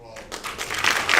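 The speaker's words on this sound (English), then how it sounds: "I just want y'all to give them a big round of applause." Audience applause at a football and cheerleaders banquet, clapping swelling quickly from quiet to loud over a brief moment.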